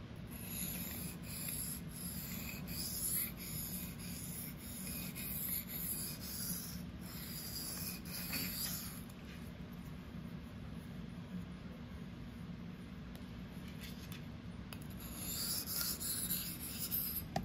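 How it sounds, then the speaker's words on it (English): A REX-45 steel knife is drawn freehand across a diamond sharpening stone in faint, repeated scraping strokes, soft and rhythmic at close range, with no voices. "Good thing this is diamond. Even in higher grits, it cuts very well, especially on a hard steel like this Rex45"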